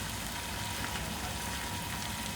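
Mutton keema sizzles and fries steadily in a pan, a continuous, even crackle of bubbling fat with no pauses, close and moderately loud throughout.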